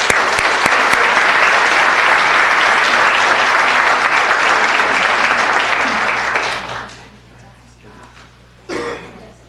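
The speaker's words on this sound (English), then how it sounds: "Let's give them all another big round of applause." An audience at a city council meeting applauds in a sustained, dense round of clapping that fades out after several seconds, followed by a few coughs and throat clearing in the quiet room.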